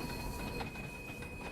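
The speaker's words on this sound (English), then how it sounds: "This train is powered by an LMS Class 4F steam locomotive." LMS Class 4F steam locomotive hauling a freight train in Train Sim World 3, a continuous rumbling roll with a high steady whine.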